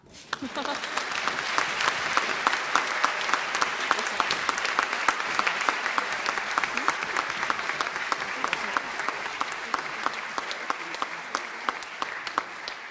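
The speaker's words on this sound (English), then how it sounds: "You may clap." Sustained applause from an audience at a National Honor Society induction ceremony, a dense clatter of many hands that swells quickly, holds steady for over ten seconds, and tapers slightly toward the end.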